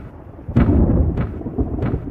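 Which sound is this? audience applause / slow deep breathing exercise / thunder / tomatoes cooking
thunder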